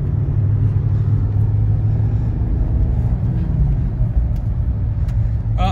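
A manual BMW E46 330ci runs and drives, its engine giving a steady low rumble with road noise throughout, loud and close with no talk.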